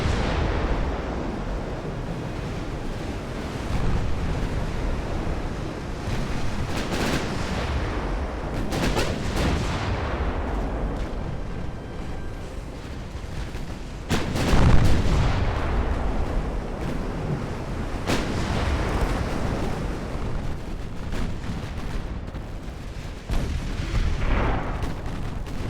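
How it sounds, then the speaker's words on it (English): Mighty 10-inch guns of a Phoenix-class battleship firing in the naval game Ultimate Admiral: Dreadnoughts: repeated deep booming salvos that roll out over a constant roar like wind and surf, with the heaviest blast about midway. "this will be a good test of the new Phoenix-class battle and her mighty 10-inch guns"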